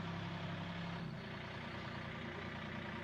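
A tractor driven by Pastor James passes near a cowboy church, giving a steady low engine rumble that stays close and continuous, with a deeper idle-like drone dropping off after about a second.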